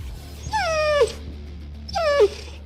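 A pit bull lets out two drawn-out whimpers, each sliding from high to lower pitch, close and clear over a low steady background hum, with no talking.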